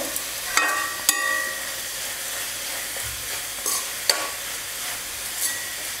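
Raw mango pieces sautéed in hot oil, with a steady soft sizzle and a few sharp clinks and scrapes of a spoon stirring the pan, close and alone without any talk.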